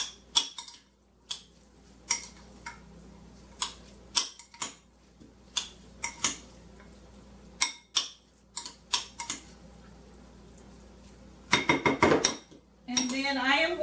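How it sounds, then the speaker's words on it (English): A spoon stirring avocado spread in a bowl taps and clinks against the sides in irregular bursts, close and crisp, with a faster cluster of scraping near the end and a voice speaking briefly. "And I'm going to stir this up real well."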